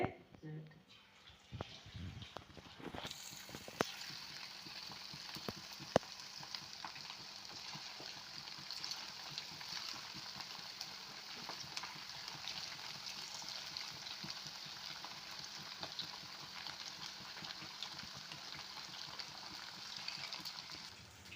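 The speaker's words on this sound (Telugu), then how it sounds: "ఇదిగోండి ఆయిల్ కాగింది వేస్తున్నాయిక" Chicken pakoda pieces sizzle in hot oil as a faint, steady frying hiss runs continuously after a few soft handling clatters at the start, with no one speaking over it.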